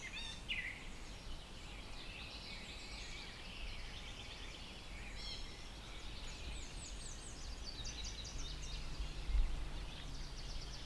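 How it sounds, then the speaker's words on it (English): A wild turkey gobbler gobbles far off across an open field, faint rolling calls carried over a steady outdoor hiss, with no voices nearby. "I think I'm hearing bird gobble"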